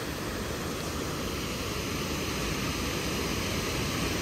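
Nooksack Falls in Washington's Mount Baker area roars as a steady, loud broadband rush of falling water, unbroken and constant throughout with no voices over it.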